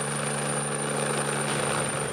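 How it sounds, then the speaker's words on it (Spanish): A helicopter arriving at a mountain military reserve area drones steadily with a continuous rotor and engine roar, moderately distant and constant throughout, with no talking. "Llegó el helicóptero a recogernos."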